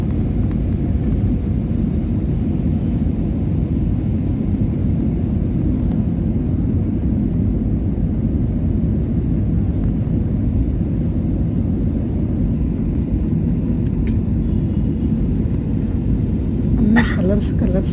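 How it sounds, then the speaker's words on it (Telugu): A loud, steady low roar of jet engines fills an aircraft cabin during landing at Biju Patnaik International Airport, Bhubaneswar, unbroken throughout, with a brief rattle near the end. "ఇప్పుడు కింద ల్యాండింగ్ అవుతుంది"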